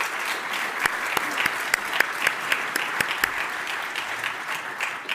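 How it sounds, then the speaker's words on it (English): Audience applause welcoming a speaker to the stage at a talk on sustainability and future mobility, a steady wash of clapping with a few sharper nearby claps standing out throughout. "Let's give Jim a warm applause"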